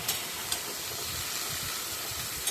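Taro and potato pieces fry in oil tempered with nigella seeds and green chili, a steady close sizzle and hiss with a couple of faint clicks, no voices.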